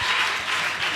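Church congregation clapping hands together during worship, a dense, steady patter of many hands filling the room.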